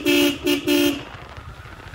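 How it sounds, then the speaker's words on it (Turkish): A horn honks three quick times, loud and close, with a buzzy, slightly strained tone over steady engine rumble. "Korna niye böyle lan?"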